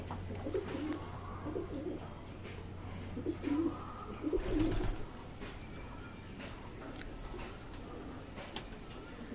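Foreign Kalshira breed pigeons coo in several soft, throaty bursts at close range over a faint steady hum, without any talking.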